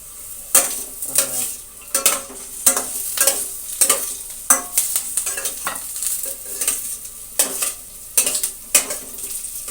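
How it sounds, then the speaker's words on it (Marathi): Curry leaves fry in hot oil in a pan for Satara-style poha, giving a steady crackling sizzle broken by repeated scraping stir strokes of a spoon against metal, close and fairly loud with no talking. "कढीपत्ता टाकलाय, कढी लिव्स टाकल्यात"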